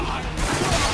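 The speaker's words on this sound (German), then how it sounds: "Ja, mal wieder eine Schießerei." A short, loud burst of rapid gunfire from a shootout in the video game Spec Ops: The Line, dense and continuous.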